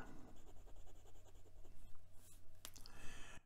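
Steel fine nib of a HongDian 6016 fountain pen scratching across paper in a quick series of soft, close strokes, with a brief louder scrape near the end.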